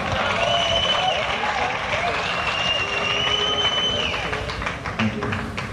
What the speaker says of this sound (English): Shall we give him a nice warm round of applause?